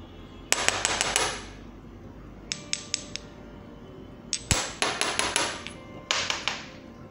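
A mortar and pestle grinds a synthesized nanomaterial sample, giving sharp, hard clicks and taps in quick bursts of several strikes, close and clear with no talk.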